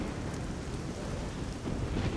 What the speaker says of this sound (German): Egal, was du tust, es stürmt.